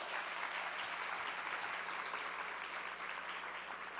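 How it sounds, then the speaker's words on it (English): A conference audience applauding at a general session, a steady wash of many hands clapping, heard from a distance and even in level throughout. "One more round of applause."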